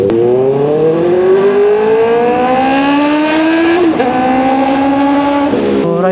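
A Kove 450RR inline-four sportbike engine revs hard while riding, a loud, close, rising whine that climbs steadily through the gears with brief dips at each shift.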